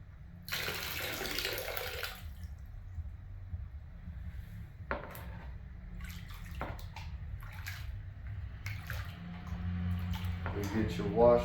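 Water swishes and sloshes in a gold pan during prospecting in Colorado, a broad rushing burst near the start followed by softer intermittent splashes and small knocks, close to the microphone.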